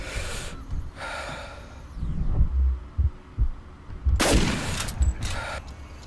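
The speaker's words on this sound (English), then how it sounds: "Critical shot right to the heart." Gunfire from a hunting rifle in Cabela's Dangerous Hunts 2013 strikes an animal in the heart, a sharp shot followed by a thumping heartbeat pulse and breathy snorting sounds in the game's ambience, with no talking.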